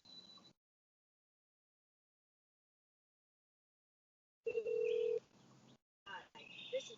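Phone keypad tones sound as a number is dialed for a call, with one long beep and then short clustered tones, close and clear, separated by silence.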